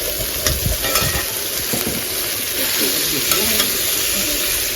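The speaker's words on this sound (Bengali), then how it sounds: "এটাকে হালকা করে ভেজে নিতে হবে। তেল যাবে, লবণ, হলুদ" Fish with potatoes fries in oil with salt and turmeric in a pan. A loud, steady sizzle runs throughout, close up, broken by scraping stirs of a utensil against the pan, with no speech.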